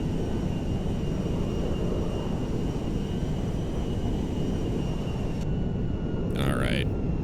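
An Airbus A310-300 airliner in the GTA 5 video game gives off a continuous loud engine roar with a steady high whine, filling the whole stretch and ending with a brief burst of voice near the end.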